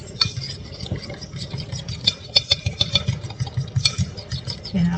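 Egg and cornmeal batter being stirred in a bowl for a Cornish meat pie topping, with a steady run of soft scraping and light clinks from a utensil against the dish, close and moderately loud with a low background hum.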